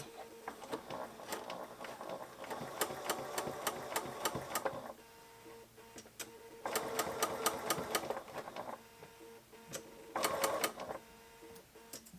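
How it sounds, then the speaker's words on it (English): A sewing machine stitches a skirt seam in three bursts of rapid, even stitching separated by short pauses, close and clear with no talking. "you go ahead and sew to the end, but you're going to sew right off of your end dot"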